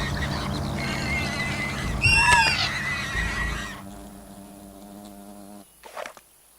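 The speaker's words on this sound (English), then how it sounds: "More wasps have spawned" Wasps buzz in the video game Fable Anniversary, a droning insect hum under game music with a sharp louder burst partway through before fading, then a brief flutter near the end.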